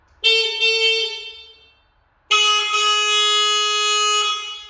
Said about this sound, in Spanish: A decir verdad, es un jodido claxon.